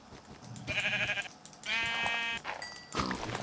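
Sheep bleating in Minecraft: two drawn-out nasal bleats, one short and one longer with a wavering tone, followed by a few fainter game sounds, fairly loud and close with no talking.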